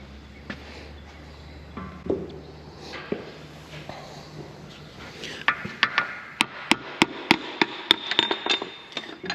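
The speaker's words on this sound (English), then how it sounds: "I might really hit that with a brass hammer." A brass hammer strikes parts of a bulldozer winch in a workshop: a run of about ten sharp metallic knocks at a steady rhythm near the end, after some quieter shuffling and handling noises, close by.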